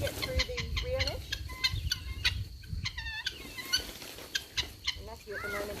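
Chickens in a chicken tractor clucking and squawking at a moderate distance, irregular clucks and rising calls scattered over faint background noise.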